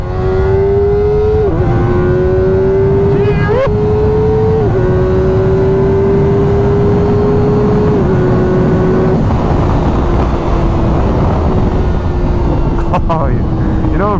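A Kawasaki ZX4RR sport motorcycle on a ride, its high-pitched engine whining up through the revs and dropping at each gear shift, loud and close over steady wind rush.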